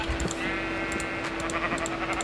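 Sheep in the video game Minecraft bleat in a few short, wavering cries over a steady background hum and light game noises.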